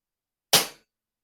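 A single sharp, loud air rifle shot through an AGT Vixen carbon shroud, with a quick crack that fades over a fraction of a second, alone against silence.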